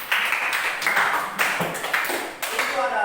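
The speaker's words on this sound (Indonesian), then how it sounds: "Ya, terima kasih, tepuk tangan." A group of children and adults in a classroom clap their hands in several uneven bursts, with a few distinct sharp claps and some voices mixed in.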